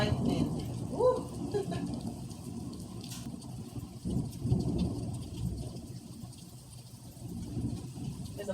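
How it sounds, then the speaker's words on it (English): Steady rain falls during a Florida afternoon thunderstorm, a soft continuous patter with faint low rumbles of distant thunder and a bird chirp early on. "Thunder and lightning."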